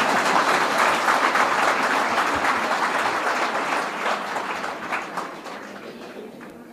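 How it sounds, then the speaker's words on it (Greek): Audience applause at a talk by the Metropolitan of Mesogaia, a dense, loud crowd clapping that holds steady and then slowly fades over several seconds, with no speech over it. "Τώρα να χειροκροτήσετε."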